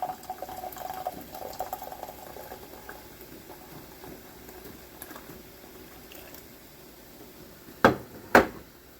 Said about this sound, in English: And I'm just going to pour it in.